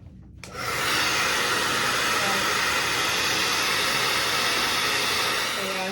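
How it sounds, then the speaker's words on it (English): A hair dryer switches on and blows a steady, loud, breathy whoosh at hair on a closure quick-weave, holding constant for several seconds. "Take your blow dryer."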